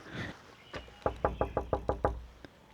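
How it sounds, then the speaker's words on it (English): Knocking on a house door in Andhra Pradesh: a quick, even run of about seven sharp, close raps, with a few lighter knocks just before and quiet surroundings. "Maybe I have to knock."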